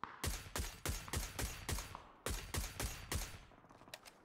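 Gunfire rings out in the battle royale game PUBG: two rapid bursts of evenly spaced, sharp single shots with a short pause between them, fairly faint in the mix.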